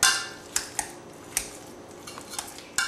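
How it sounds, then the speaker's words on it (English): Old-fashioned masher working cubed sweet potatoes in a metal pot, giving a few sharp clanks and scrapes at uneven intervals, close and clear, with no voices. "We're just going to mash the sweet potatoes."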